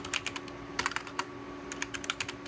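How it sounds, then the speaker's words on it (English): Keystrokes on a computer keyboard attached to a Sun machine in OpenBoot, a close series of sharp clicks in quick irregular bursts over a steady electrical hum, with no voices. "I am typing in the command to disable keyboard click in OpenBoot"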